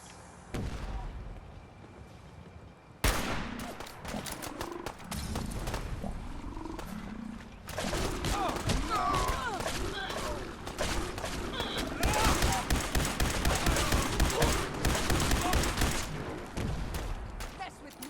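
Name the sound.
gunfire fighting Gulpers in the video game Fallout 4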